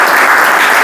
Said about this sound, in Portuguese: Uma salva de palmas para a FIA